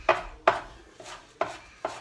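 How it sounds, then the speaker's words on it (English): A knife chops fresh basil and parsley on a cutting board in five evenly spaced, crisp knocks, close and fairly quiet, with no talking. "All I'm doing is just mincing them up."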